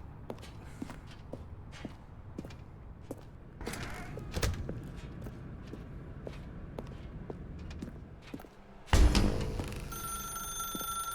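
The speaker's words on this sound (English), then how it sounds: "Now pick up the phone." A telephone rings in the video game The Stanley Parable, its bright, steady tone cutting in near the end after a stretch of soft, scattered footsteps and shuffling.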